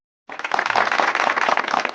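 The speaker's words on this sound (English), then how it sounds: "The crowd gave the puppeteer a thunderous round of applause" After silence, applause bursts in for a puppet show and carries on steadily, many hands clapping close and loud in a dense, even patter.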